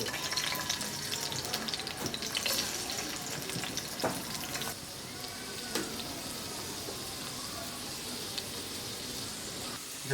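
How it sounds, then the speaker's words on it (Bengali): Prawns fry in hot mustard oil, giving a dense, crackling sizzle that starts busier with sharp pops and stirring scrapes, then settles to a steadier, slightly quieter hiss, with no voices. "এবার চিংড়ি মাছটা ভেজে নেব।"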